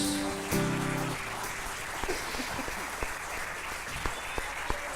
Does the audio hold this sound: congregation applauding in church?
yes